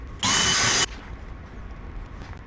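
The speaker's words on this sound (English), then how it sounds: "you'll want to drill a 1/4 inch hole for a nice tight fit." A power drill bores a 1/4 inch hole for a bolt while fitting a backup light kit to a 2014-or-newer Yamaha Viking side-by-side. One loud, high-pitched whir lasts just over half a second, then stops, leaving quiet room noise.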